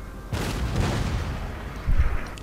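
Cannon artillery fire in the Napoleon: Total War video game, a couple of heavy booming blasts, one near the start and a louder one near the end, over continuous low battlefield rumble.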